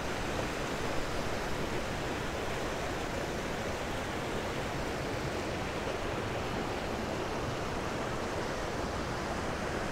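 A waterfall near Meldon Reservoir on Dartmoor rushes in a steady, dense roar that fills the whole stretch without a break, close and even, with no voices.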